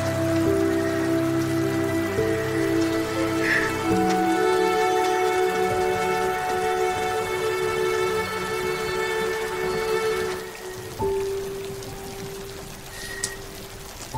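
Steady rain patters and pours continuously, a dense hiss with a faint tonal hum underneath that drops partway through.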